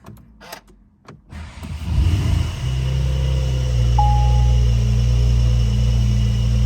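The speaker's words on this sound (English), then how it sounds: "Let's go ahead and fire the car up." A Porsche 992 911 Carrera 4S starts up: a brief starter whir gives way to a loud, deep engine rumble that settles into a steady idle close by, with no voices.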